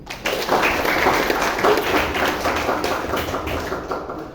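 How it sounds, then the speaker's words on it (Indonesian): A group of students at a police guidance session with Polres Purworejo claps their hands together in a dense, steady patter of applause lasting several seconds, close and fairly loud, with no talking over it. "tepuk tangan dulu"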